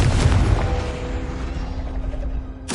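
A Confringo blasting spell cast in Hogwarts Legacy on Hard difficulty: a loud, booming burst opening with a deep thump, then a sustained rumbling wash with a faint tonal ring that fades before a sharp crack at the end.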